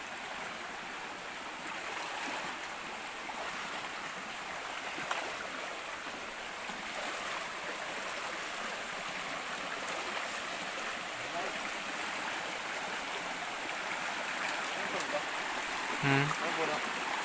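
River water flows in a steady, soft broadband rush, fairly faint and even, with a brief knock near the end and quiet voices in the background.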